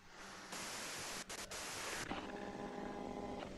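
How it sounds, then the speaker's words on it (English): Loud, steady broadband white-noise static from the Disco Elysium video game, a constant hiss that briefly dips twice, then continues with faint tonal hum layered underneath. "If you've got something really important to say, you can do it through the white noise."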